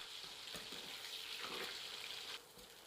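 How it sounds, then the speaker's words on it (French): Walnuts frying gently in oil over low heat, a steady soft sizzle with faint bubbling and occasional stirring clicks, close and continuous, easing slightly near the end. "On les frit à petit feu. Il faut attendre que l'eau sorte des noix."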